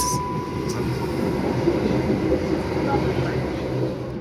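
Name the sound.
Southeastern Class 707 train running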